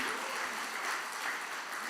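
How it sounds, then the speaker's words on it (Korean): A Methodist church congregation on Christmas Day applauds, a continuous, fairly soft spread of many hands clapping, even and distant-sounding without pauses. "박수도 치려면 화끈하게 치고 다시 한번 박수 한번 해보세요"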